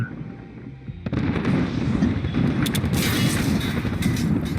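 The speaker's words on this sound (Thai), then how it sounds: "เวลาที่ปาไปแล้วเนี่ย มันจะมีจรวดปักลงมาใช่ไหม ซึ่งแต่ก่อนเนี่ยจะใช้เวลาทั้งหมด 8 วินะครับกว่าที่จรวดจะระเบิดนะ" Ultimate rocket strike from Apex Legends, a string of explosions that keeps up loud, dense booms and blasts, a rumbling barrage building near and heavy after a brief lull, with no talk.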